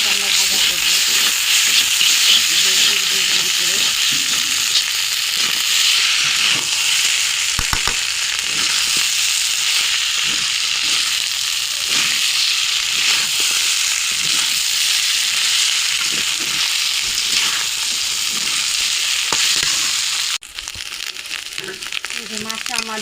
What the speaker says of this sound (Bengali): এখন আস্তে আস্তে আমরা ভাজা করবো করে